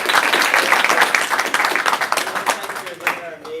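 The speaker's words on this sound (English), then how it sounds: "Big round of applause for these guys." Applause and clapping from an audience for panel guests at an entrepreneurship launch event in a college hall, dense and steady before thinning out near the end, with voices mixed in underneath.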